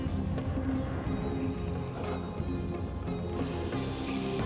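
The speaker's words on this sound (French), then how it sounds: "Dans la même poêle, je mets mes rougets." Red mullet sizzling in a warm frying pan alongside gambas, a steady close crackle and hiss of fat throughout with a few light clinks of utensils and no talking.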